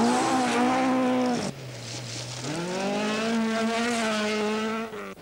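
Rally cars at full race pace, an outdated Ford Escort among them, engines wailing loud and close with rising and falling revs, a sharp drop in pitch as one passes, then climbing again through the gears.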